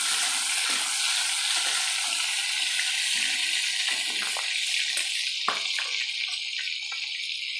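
Prawns sizzle in hot oil with a dense, steady crackling hiss throughout, close and loud, with occasional spattering pops and a few faint clinks from the pan.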